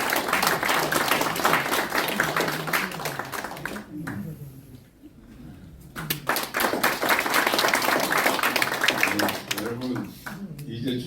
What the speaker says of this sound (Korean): 뜨거운 박수 부탁합니다.